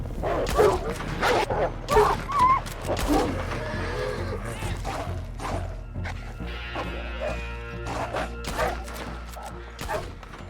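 Horse neighs and whinnies in Red Dead Online, mixed with dog-like barks and yips amid busy in-game action, with loud bursts recurring through the scene.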